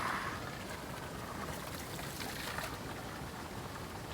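Water runs steadily from a village spring spout, a soft, continuous rushing wash heard faintly at a distance with no voices.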